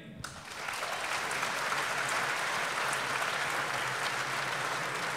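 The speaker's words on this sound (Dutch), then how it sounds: "ik vraag een warm applaus voor de juryvoorzitter van vanavond" Audience applause at a business awards event in Veenendaal, a sudden burst of many hands clapping that swells and stays dense and steady in a large room.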